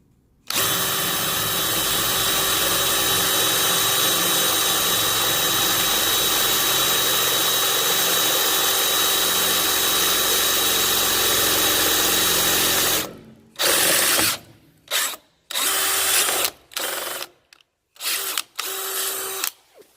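A power drill whines steadily for several seconds while drilling and tapping a hole in metal in one pass, then runs in short on-off bursts with gaps between them.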